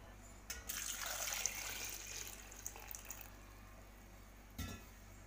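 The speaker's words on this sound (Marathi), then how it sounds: "हे आंबे डुबेतपर्यंत पाणी घालायचे" Water pours into a cooking pot of mangoes for mango panna, a steady close splashing rush that fades away, followed by a brief clink near the end.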